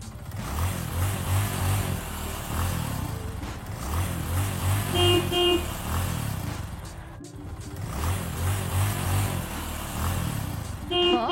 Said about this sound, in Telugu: డాక్టర్ ఇంకా నర్స్ ఇద్దరు స్కూటర్ మీద గీత ఇంటికి వస్తారు.